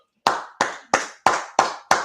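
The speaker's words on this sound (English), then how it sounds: "let's go ahead and clap it up" Six sharp claps in a steady, slow rhythm, each crisp and fairly loud, with no voices around them.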